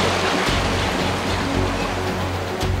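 River water rushes steadily and close by as one dense continuous wash with no break and no talk.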